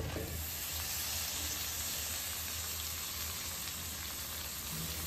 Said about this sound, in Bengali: এবার আমি দিয়ে দেব আগে থেকে কেটে রাখা টমেটো